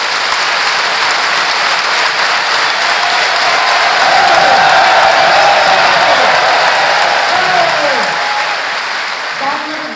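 A leadership program audience bursts into loud, sustained applause to welcome a guest, a thick continuous roar of clapping that holds for ten seconds and eases slightly at the end, with voices mixed in.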